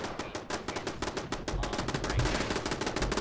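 Automated turrets fire at protectron robots in Fallout 76: a steady, rapid clatter of gunfire, moderately loud, running without a break under a low rumble.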